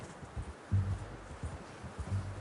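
Horse hooves clip-clop in a Wild West video game, several soft irregular thuds over quiet ambience, with one stronger double beat partway through.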